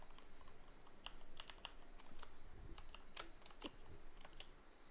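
Typing on a computer keyboard, a steady run of quick, light key clicks in irregular rhythm, close and fairly quiet, with no voice.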